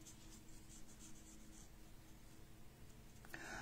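Pen scratching steadily as it colours in a paper envelope, a faint, continuous close scribble with no talk.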